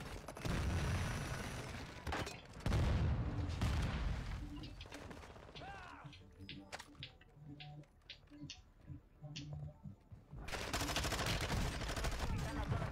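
Video game gunfire crackles in dense bursts of rapid shots and blasts, falling to scattered pops and mechanical clicks in the middle before another heavy volley; voices talk intermittently beneath.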